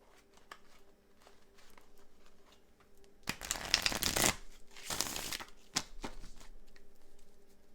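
Tarot cards shuffled by hand for a reading, two dense bursts of riffling and snapping cards between quieter handling taps, close and alone without talk.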